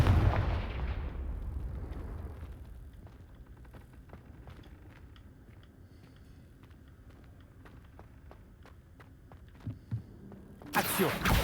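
A Confringo fire spell detonates in the Hogwarts Legacy video game, a loud booming blast at the start that rumbles and fades into a low crackling tail, with another sharp burst near the end.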